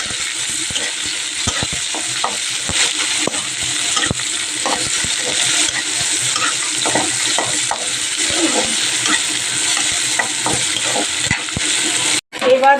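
Dried fish and shrimp go into hot mustard oil seasoned with black cumin, sizzling and spattering in a steady crackle while a spoon stirs and scrapes the pan up close, with a clatter near the end.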